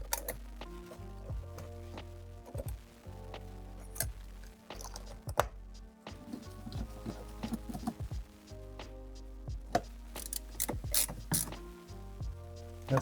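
A ratchet clicks steadily as it turns a T27 Torx bit in the door of a 2005 Mercedes C-Class, with close, rhythmic pawl ticks in short runs and pauses between strokes.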